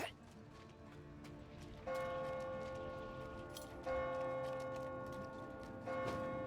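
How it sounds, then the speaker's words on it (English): Church bells toll in the Diablo 4 game town of Nostrava, three evenly spaced strikes with long resonant decay, heard quietly over soft ambient game sound. "Them church bells are ringing."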